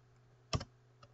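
Computer keyboard typing at a desk, one sharp close click cluster followed by a fainter single keystroke a moment later, quiet and otherwise still.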